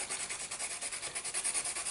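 Dry pastel crayon rubbed back and forth on a sandpaper block over a small bin, a steady rhythmic scratchy rasp with regular strokes, close and alone.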